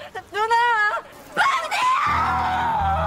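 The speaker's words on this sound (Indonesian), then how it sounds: "si bungsu ada di seberang jalan berteriak memanggil ibunya" A child screams from across a street, a long rising wail followed by a second shriller cry, then a sustained tonal sound carries on beneath; voices are mixed in.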